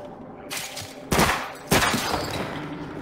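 In the After the Fall video game, two sharp, loud blasts go off close by as an enemy explodes next to the player, each burst trailing off, over quieter ambient game noise.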